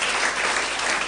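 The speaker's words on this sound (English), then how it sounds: "can you just clap for them?" Dense congregation clapping at a church gathering, a continuous loud wash of many hands with no voices on top.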